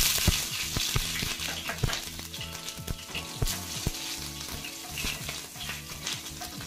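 Cumin seeds and two chopped green chillies fry in hot oil, giving a steady close sizzle with scattered crackles and pops and a soft background music-like tone, with no one speaking.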